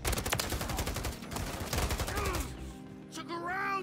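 Rapid gunfire from a weapon in the video game Modern Warfare 3, a dense burst of loud repeated shots for about two and a half seconds, then game effects and a short tonal sweep as the firing stops.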